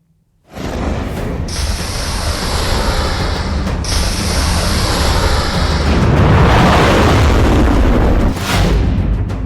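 Iranian Sejjil missile launch: a sudden, very loud roaring blast begins after a brief silence and holds as a sustained, powerful rumbling roar that swells slightly.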